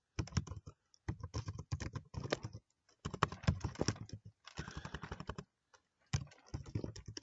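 Rapid typing on a computer keyboard, close and clear, with bursts of clicking keystrokes broken by short pauses.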